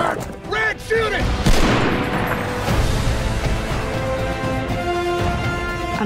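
Call of Duty WWII gunfire rings out as sharp shots and booms over a rumbling battle bed, with a strong blast early on and a sustained musical drone, after a brief voice at the start.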